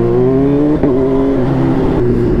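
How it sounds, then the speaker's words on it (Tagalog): A loud motorcycle exhaust revs hard nearby, its engine note climbing and holding in a strong sustained whine with a brief dip between pulls, alone without voices. "Lakas ng pipe ni paring Motodons."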